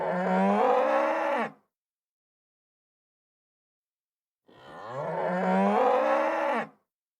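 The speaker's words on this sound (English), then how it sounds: "It's a bull." A bull moos twice, each a long, loud, close bellow of over a second with a falling pitch, separated by a few seconds of silence.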